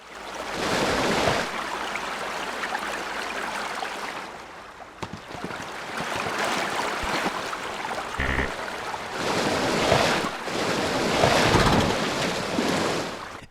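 A torrent of water crashes over and upends a small Jeep in a video game, a loud, rushing surf-like roar that swells, dips briefly and surges again with no voices.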